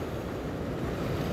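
Ocean waves at Balekambang beach in Malang, open sea: a continuous low rumbling surf with wind buffeting the microphone, close and steady, with no speech.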